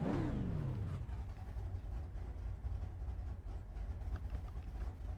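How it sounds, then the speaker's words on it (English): Late model race car on North Wilkesboro in iRacing, its engine droning loud and steady with a falling rev sweep at the start, then holding a constant rumbling note throughout. "Car should be a little bit louder now for you."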